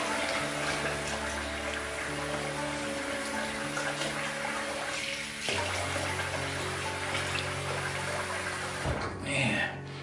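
Tap water runs and splashes steadily as a face is rinsed after a wet shave with shave soap, a continuous close gush with a brief shift in flow and a voice now and then.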